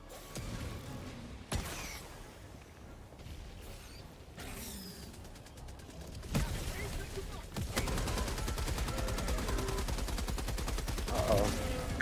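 A heavy machine gun turret in the video game Helldivers 2 fires rapid bursts amid mechanical clanks and creaks, growing louder and denser toward the end, with some talk mixed in.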